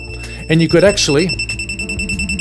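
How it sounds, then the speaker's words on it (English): An ammonia (NH3) gas analyzer goes into alarm, its buzzer sounding in repeated tonal beeps at close range while someone speaks over it. "Now, you see LEDs flashing, you could hear the buzzer"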